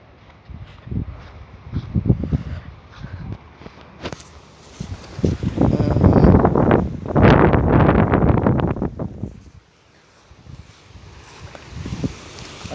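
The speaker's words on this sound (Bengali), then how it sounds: "বাতাস ছেড়েছে গাইস বাতাস বৃষ্টিতে" Strong gusty wind blows outdoors during rainy weather, roaring against the microphone in loud surges that swell and fade, dropping briefly near the end.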